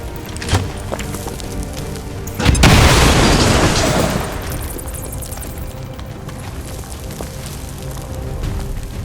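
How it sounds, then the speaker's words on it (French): A heavy explosion in the video game XCOM 2 booms loud and close, a broad blast that swells about two seconds in and rumbles for nearly two seconds before fading into ongoing game ambience. "Explosion."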